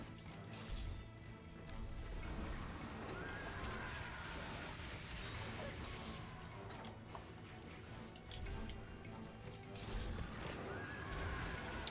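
Horse-like monster in Monster Hunter Freedom Unite neighs and whinnies amid heavy crashes, hoof clatter and battle impacts, a dense, loud game-combat mix lasting throughout.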